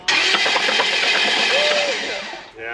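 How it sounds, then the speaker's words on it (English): Engine of a broken-down off-road buggy on a trail being cranked over, a loud, steady churning drone that runs continuously for a few seconds before briefly dropping off, with a faint voice in the background. "So go ahead and crank her again."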